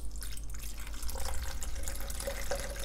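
Diluted strawberry syrup pours into a jug in a home kitchen, a short close stream of trickling, splashing liquid with a few drips and no talking.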